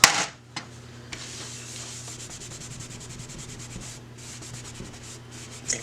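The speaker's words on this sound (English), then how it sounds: "clean off the cover. Again, I'm just using my rubbing alcohol." A cloth dampened with rubbing alcohol wipes a craft cover clean, making a steady, quiet rhythmic rubbing close by, with a couple of brief knocks at the start and end and no talk.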